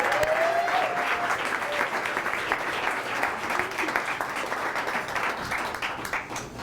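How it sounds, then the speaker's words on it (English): Sustained applause from a live evening audience welcoming two performers onto the stage, dense and steady throughout, with a faint tone rising briefly early on. "Could you give them a round of applause?"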